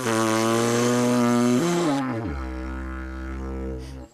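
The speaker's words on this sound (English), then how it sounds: "All I'm doing is buzzing my lips, and we'll get in for a close-up on that." Didgeridoo played by buzzing the lips, giving a steady, loud, harmonically rich drone that drops in pitch partway through and settles into a deeper, sustained hum before cutting off.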